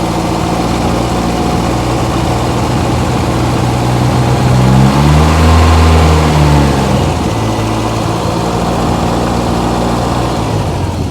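A Ford Escort RS Turbo engine idles roughly with an audible misfire, then rises into a short rev and drops back, hunting unevenly, loud and close with no talk.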